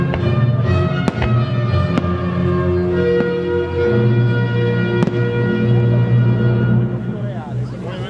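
Fireworks show in the Versailles palace gardens, with sharp bursts cracking out at intervals over a loud continuous roar of music and crowd noise, blasts ringing close and distinct above the dense backdrop.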